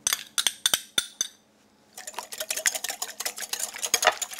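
Egg and rice syrup being mixed in a bowl: a run of sharp clinks of utensil on dish, a short pause, then quick, steady scraping and clinking as the mixture is stirred briskly.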